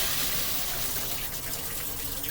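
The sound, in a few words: eye wash fountain water rushing up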